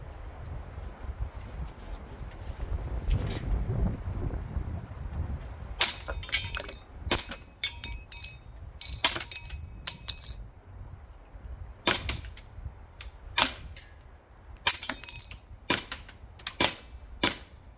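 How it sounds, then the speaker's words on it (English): Krytac Maxim 9 gas blowback airsoft pistol fires a string of sharp shots, each followed by a bright metallic clang off a Texas Star steel target, irregularly spaced with short pauses between bursts, fairly close. "Okay, let's shoot the Texas Star and let's see what happens."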